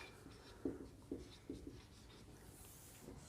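Chalk or marker tapping and scraping on a board while a physics table is drawn up, four or five short distinct strokes in a quick uneven rhythm, close and soft against a quiet room, no speech.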